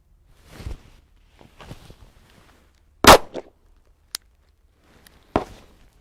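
Pistol shots fired at a shooting range during a dot torture drill, a few sharp loud cracks spaced apart with lighter handling clicks and rustles between them, close to the listener.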